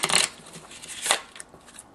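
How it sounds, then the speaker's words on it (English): Someone riffle-shuffles two halves of a deck of playing cards, face-up cards into face-down ones, giving two short, quiet, crisp bursts of flutter without any talk. "now I want you to give these two halves a riffle shuffle"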